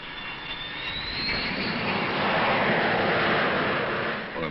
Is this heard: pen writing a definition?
no